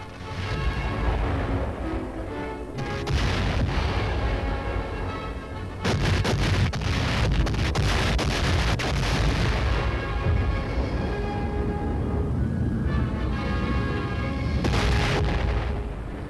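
The 1945 naval and air bombardment of Okinawa thunders without pause in dense, booming artillery and explosions, loud and continuous with heavy low rumble and crackling bursts.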